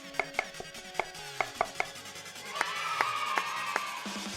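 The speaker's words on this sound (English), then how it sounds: "we've decided to cut up a regular chocolate bar" A knife chops through a regular chocolate bar on a board in a home kitchen, giving a series of sharp, evenly spaced taps close up, with soft scraping between cuts and no talking.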